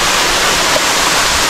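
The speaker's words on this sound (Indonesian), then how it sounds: "Ini air terjun" A loud, constant rushing roar of falling water, dense and unbroken throughout.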